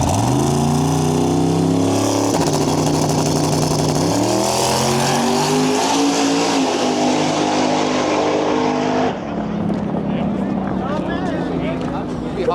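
A Fox body Mustang launches down a drag strip, its engine note climbing steadily in pitch through the gears, loud and close, with a voice talking over the roar.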